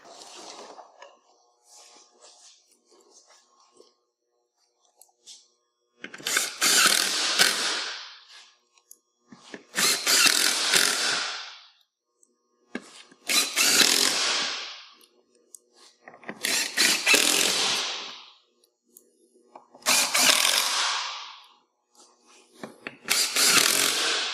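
Screws are driven back into the central line of an inside slider plate while assembling Track N Go tracks, heard as six loud, separate power-driver bursts of about a second or two each, with quiet pauses between them.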